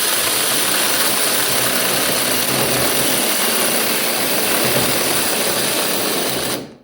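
A cheap cordless battery chainsaw cuts through wood with a loud, steady high-pitched motor whine that holds for about six seconds and then abruptly cuts off.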